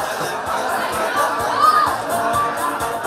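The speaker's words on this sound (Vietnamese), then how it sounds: "Xin quý vị cho một tràng vỗ tay thật lớn." Wedding guests cheering and applauding at a reception, a dense steady crowd roar with whoops and shouts, loud and sustained throughout.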